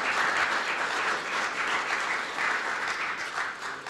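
Sustained audience applause at an award ceremony for Smolensk monument design competitions, a dense even wash of many hands clapping that fades slightly toward the end.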